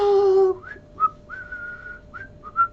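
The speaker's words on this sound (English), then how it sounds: "yep, I'm whistling." A person whistles a handful of short notes and one longer held tone, fairly close, following a brief tonal sound at the start, with no talking over it.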